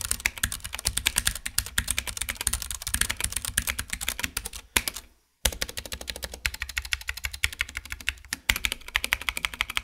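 Brisk, steady typing on a Ducky One 2 Mini keyboard with Cherry MX Brown switches, close and clicky-muted keystrokes in a rapid rhythm, with a brief pause around the middle.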